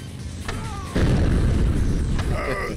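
A bomb goes off in Road Redemption, a heavy close boom that jumps in loudness about a second in and then rumbles on under engine noise, with brief tonal game effects around it and a voice nearby.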